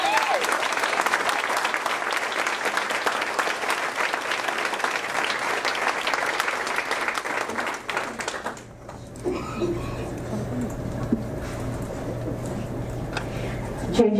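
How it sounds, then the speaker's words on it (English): Audience applause fills an awards banquet hall, a dense, steady clapping that runs for about eight seconds before stopping abruptly, leaving a quieter room with a low hum and faint murmuring. "Please help me in giving a round of applause as we present JJ with this plaque of appreciation."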